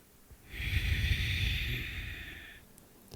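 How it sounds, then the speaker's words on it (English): A long, steady exhale during a yoga cat-cow pose, a soft breathy hiss lasting about two seconds, close and clear with no talking over it. "Exhale for cat."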